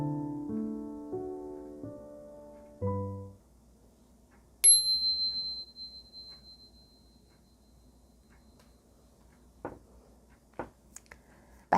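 A single bright bell strikes after a short run of low tonal notes, marking the start of a tarot card reading. Its high, pure tone rings out clearly and fades slowly over several seconds, followed by a few faint soft clicks.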